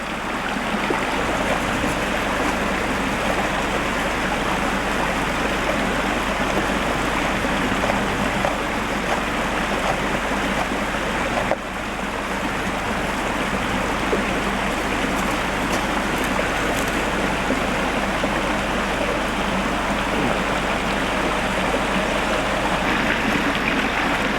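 A waterfall pours in a steady, loud, unbroken roar of rushing water for the whole stretch, with no voices over it.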